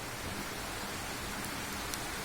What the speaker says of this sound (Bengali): কত সুন্দর বৃষ্টি হইতেছে।